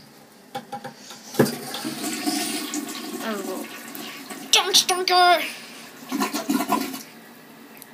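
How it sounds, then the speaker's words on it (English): A household toilet flushing nearby with a loud rush and gurgle of water, while a person talks over it. "flush it for me"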